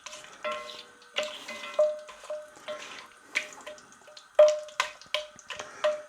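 Whole spices and a cinnamon stick fry gently in a pan, giving soft scattered pops and crackles, with intermittent clinks and scrapes of stirring spaced every second or so, close and fairly quiet.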